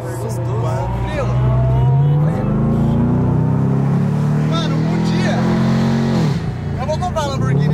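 A Lamborghini passes close by with a smooth, steady engine drone that swells and fades as the car goes past, while people talk over it throughout.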